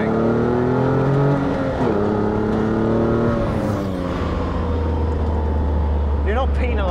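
A Morgan Super 3 engine revs out toward the rev limit on the road, a loud close rasping note rising in pitch, dropping on a shift, then settling into a low steady drone.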